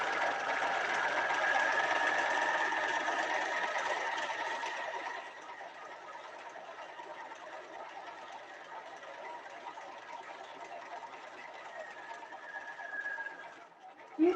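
A sewing machine runs continuously while stitching a flat felled seam, its steady motor hum and rapid needle chatter loud at first, then softer for a stretch before a brief clunk at the end.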